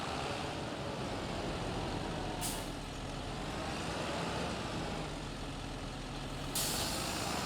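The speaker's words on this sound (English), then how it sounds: "So I'll park the water tanker right here" A water tanker truck pulls up to park, its engine rumbling steadily at close range, with short air-brake hisses bursting out twice.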